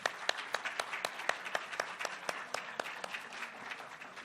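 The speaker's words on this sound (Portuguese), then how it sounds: "eu gostaria de aplaudir nossos convidados" Audience at a school-nutrition conference session applauding invited guests, a steady run of distinct, fairly close hand claps with no voices over them.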